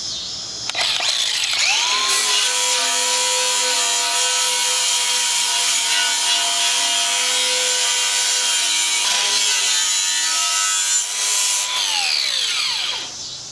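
An angle grinder with a flap sanding disc grinds old rust and paint off a steel box blade, a loud, steady whine that spins up, holds continuously near the mic, dips briefly, then winds down.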